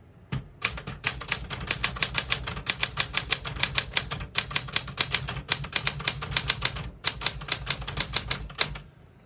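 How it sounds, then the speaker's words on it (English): Rapid, steady clacking of keys on a 1974 Smith-Corona Galaxie Twelve portable typewriter, striking in quick bursts with brief pauses, close and crisp, no voices. "As you can see, all the keys type nice and none of them skip or stick."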